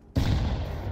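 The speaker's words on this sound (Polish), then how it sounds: "Flashbang." A flashbang grenade goes off in Counter-Strike 2, a sudden loud blast after a quiet moment, followed by a dense, sustained roar and ringing that fills the rest of the short clip.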